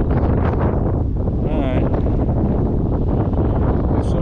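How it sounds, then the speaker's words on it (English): Strong wind roars across the microphone on a fishing boat, a loud continuous rumble that never lets up and nearly covers a brief whirring reel sound. "So it's windy, but there you go."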